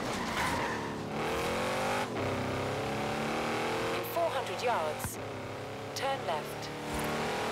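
A Lamborghini in Forza Horizon 3, driven in the Outback, revs and accelerates with a rising engine note, brief tire squeals and skids punctuating the drive, and a player talking over it.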